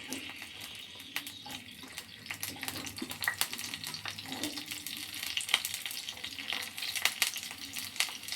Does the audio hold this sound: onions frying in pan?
yes